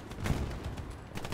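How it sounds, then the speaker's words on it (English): Suppressing gunfire in the Hell Let Loose video game, a steady stretch of shots at moderate distance with no pauses, rattling along at even loudness. "I'll lay down suppressing fire"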